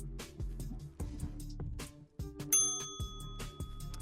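A quiz-answer bell chimes once in a Minecraft game show, a bright sustained ding emerging partway through over busy game music and background chatter.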